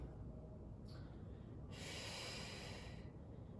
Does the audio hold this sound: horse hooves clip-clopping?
no